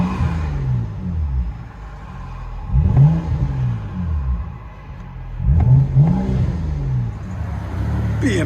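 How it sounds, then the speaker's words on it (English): Straight-piped, true dual exhaust on a 2011 BMW 335i revving in repeated bursts, loud rising and falling engine roars with a rumbling idle between, recorded close by. "BMW 335i, fully straight pipe, true dual"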